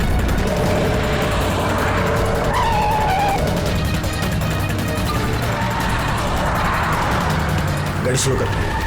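A car drives hard and skids in a CID crime-drama chase scene. Engine roar and tire noise fill the clip continuously and loudly, with voices over it.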